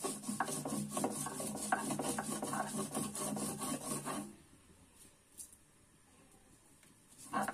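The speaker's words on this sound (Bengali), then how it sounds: "প্রথমে আমি মাছ আর এগুলা বেটে নিব" Fried dried fish being ground on a traditional grinding stone for a Bangladeshi bharta, a steady close rasping and rubbing for about four seconds that then stops, leaving quiet with a couple of faint knocks and a brief scrape at the end.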